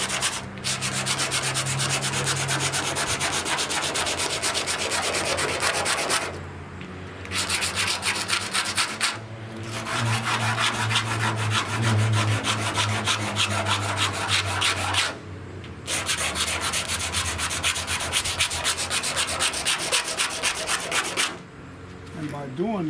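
Glue being sanded off bare metal with steady, continuous rubbing strokes, close and loud, broken by a few short pauses over a long stretch with no talking.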